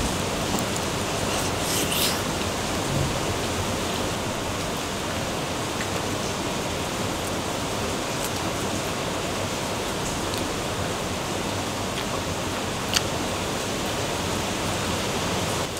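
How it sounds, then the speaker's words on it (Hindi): Steady, dense rain falls outside as a continuous broadband hiss, with occasional faint clicks and taps over it and no speech. "बाहर बारिश की आवाज आपको आ रही होगी"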